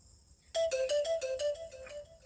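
A mobile phone ringtone starts abruptly after a quiet moment and repeats as a loud, close electronic melody in quick regular pulses, with nobody speaking.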